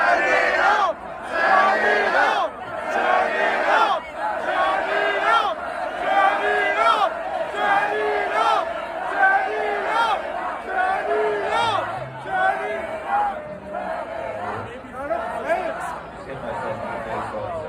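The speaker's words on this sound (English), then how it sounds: "Chants of Turn It Up rang out" A large festival crowd at The Strokes' All Points East show chants "Turn It Up" in loud, rhythmic waves of massed voices that pulse steadily throughout.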